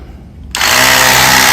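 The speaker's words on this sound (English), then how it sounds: "Hook your compressor up." A motorcycle tyre air compressor switches on abruptly after a quiet moment, jumping straight into a loud, steady motor drone that continues without a break.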